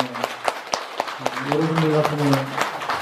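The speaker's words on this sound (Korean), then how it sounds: "박수 한번 해주세요" An audience applauds after a lecture, with scattered claps that build into a brief, moderately loud round in an indoor hall. A voice runs over the clapping.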